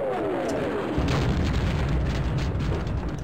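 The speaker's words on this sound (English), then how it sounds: "Why are they still bombing this place?" Bombing explosions rumble through the Black Mesa Central Complex in the Half-Life Sven Co-op game, a heavy booming blast that settles into a sustained low roar, loud and close, with no talk over it.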